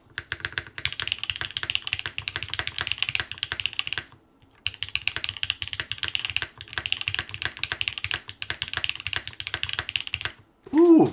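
Steady, fast typing on a Yujin Mini mechanical keyboard, dense crisp clacks close up with one short pause midway, ending in a brief tonal noise.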